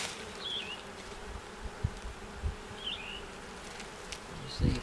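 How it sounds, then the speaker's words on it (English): During a beehive cutout in a church, a steady swarm of bees hums, with individual bees buzzing past and occasional low thumps, with no talk. "these Virginia killer bees, you can't ever tell about them."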